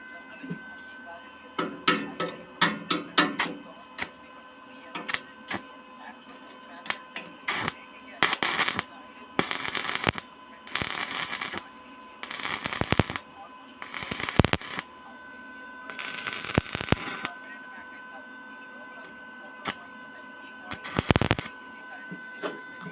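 Welding in progress, with repeated crackling, sputtering bursts of varying length broken by short pauses over a steady electrical hum, close and fairly loud.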